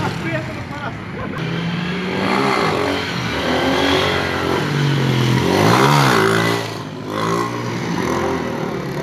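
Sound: motorcycle revving for a wheelie

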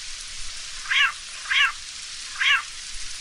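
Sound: cats meowing in a video game

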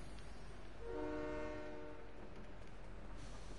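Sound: train passing with horn in video game

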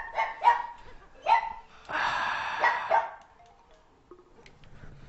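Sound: dog barking in the room

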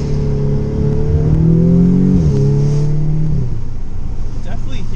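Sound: Audi S3 engine revving with CTS turbo intake and inlet

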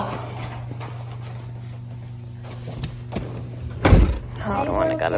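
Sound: door being opened

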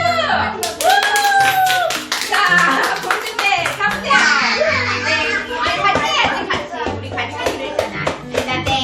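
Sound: children clapping and cheering

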